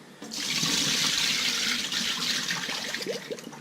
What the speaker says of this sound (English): gave it one last rinse